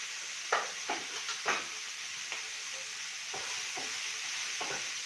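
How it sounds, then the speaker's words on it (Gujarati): A spoon scrapes and stirs coriander-cumin powder, red chili powder and turmeric together in a hot pan, giving a series of short, uneven scraping strokes over a soft, steady sizzle. "હવે આપણે મિક્સ બધા મસાલાને કરી લઈએ"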